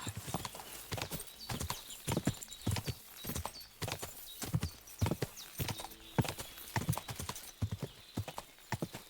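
Hoofbeats of a galloping horse in the video game Kingdom Come: Deliverance 2, a rhythmic run of loud clip-clop thuds with uneven spacing, close and without talk.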